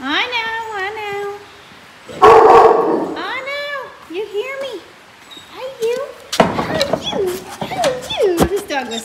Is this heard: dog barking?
yes